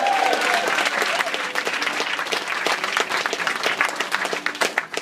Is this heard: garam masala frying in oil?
no